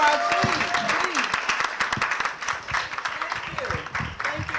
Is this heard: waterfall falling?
no